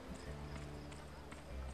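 Horse hooves clip-clopping in the Western video game Gun, a steady run of soft, regular footfalls with a low rumble underneath, under faint background voices.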